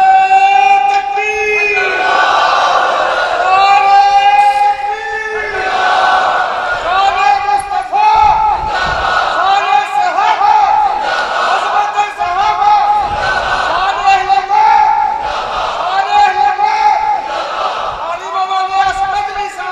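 A large crowd at a religious sermon chanting slogans in loud, rhythmic call-and-response waves, voices rising and falling together in repeated bursts throughout.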